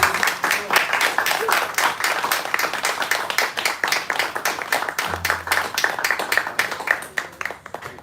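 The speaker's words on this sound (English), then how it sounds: "Just want to give a round of applause for the class." An audience at a Sunday talk claps for the class in a steady round of applause, moderately loud, with a faint voice heard briefly partway through.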